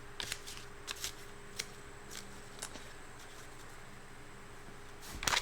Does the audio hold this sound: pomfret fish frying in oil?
no